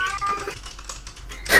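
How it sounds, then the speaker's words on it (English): A cat meows close by, with a short cry near the start and another sharper one at the end, set against light clicking and faint background voices. "Fucking cat."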